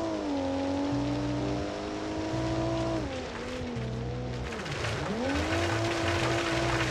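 A carbureted SUV with an automatic gearbox runs flat out on a gravel circuit in BeamNG. The engine drones steadily at full throttle, its pitch rising and dipping twice under a gritty hiss of gravel and tyre noise.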